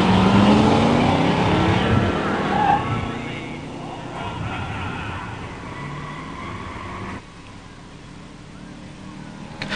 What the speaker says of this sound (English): In the far lane, Steve Walsh's 87 Mustang 302 5-speed.